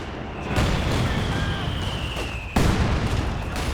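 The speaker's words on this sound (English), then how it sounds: "Heavy mortar strike out the back." A heavy mortar strike in Company of Heroes 2, two loud booming impacts with the second sharper, amid ongoing battle noise and a whistling shell.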